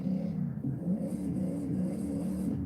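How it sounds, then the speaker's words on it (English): Supercharged Hellcat V8 engine revving in a Forza Horizon driving game, a steady mid-low rumble and whir that holds at moderate loudness throughout with slight swells, no talk over it. "it's a Hellcat engine."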